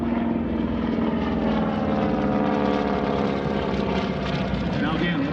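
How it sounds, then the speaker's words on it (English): A T-6 propeller trainer passes overhead at the 2021 Arctic Lightning Airshow in Alaska, a loud sustained radial-engine drone with a shifting pitch as it crosses, while an announcer talks over it. "As the T-6 flies right over top."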